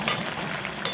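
Saury braised with kimchi bubbles in a covered pot, a brief continuous sizzle-and-bubble up close with faint ticks.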